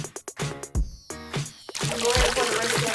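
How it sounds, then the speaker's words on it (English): Water is poured slowly into a small aquarium from a children's subsea volcano kit; a few sharp taps come first, then a soft, steady splashing trickle. "So go ahead, you can pour a little bit more water in there. Be careful, pour it slowly, Kaydence."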